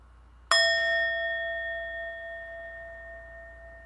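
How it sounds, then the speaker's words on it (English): A single clear strike of a meditation bell during a worship service, ringing out with a pure, sustained tone that slowly fades in quiet surroundings. "The sound of the bell is the voice of the Buddha within."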